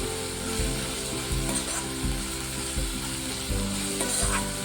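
Food sizzles steadily in a hot pan while making a quick puffed rice breakfast, with regular stirring strokes cutting through the close, continuous frying hiss.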